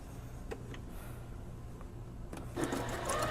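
Sewing machine top stitching fabric on a puffy sleeve, a low steady mechanical hum with faint ticks that grows louder and busier near the end, close by and without talk.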